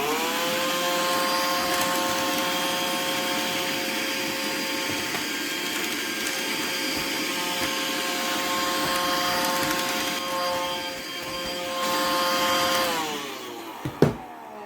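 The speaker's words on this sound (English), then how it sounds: "And a bit of a vacuum." A vacuum cleaner whines steadily with a tonal motor hum, pitch shifting slightly as it works over a computer keyboard, then a clunk near the end as it stops.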